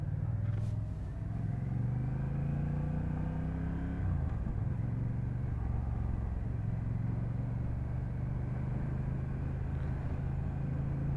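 A 2024 Honda Rebel 1100 motorcycle is ridden along a road. Its engine holds a steady, low, rumbling drone, and the pitch dips briefly midway as if shifting gear. No one speaks.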